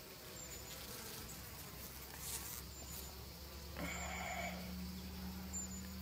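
Honeybees buzz in a low, continuous drone at a hive while queens are being marked, a steady hum with a clearer nearby buzzing tone joining partway through and no talking.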